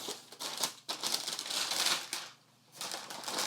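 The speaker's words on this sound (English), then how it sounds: "Go ahead and flip this box open, peel all of this paper back," Tissue paper crinkles and rustles as it is peeled back inside an Air Jordan 6 Retro "Red Oreo" shoe box, size 10.5, in close, busy bursts with a brief lull near the end.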